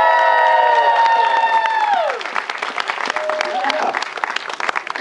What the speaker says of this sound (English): rabble-rousing round of applause for this indubitably